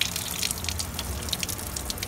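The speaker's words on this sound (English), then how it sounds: "the water comes out maybe a little yellow" Water running from an ozone machine during servicing and cleaning, a steady close hiss and patter of flowing water with faint drips and no voices.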